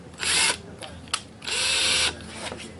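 A power drill whines in bursts as it drives a trim screw into a wooden baby crib, with a short burst, a couple of brief clicks, then a longer steady run close by.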